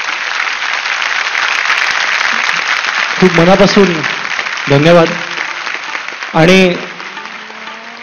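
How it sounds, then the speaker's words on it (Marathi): Sustained audience applause fills a hall at a Marathi stage show, continuing loudly throughout while someone speaks over it at intervals. "मला वाटतं एकदा जोरदार टाळ्या या"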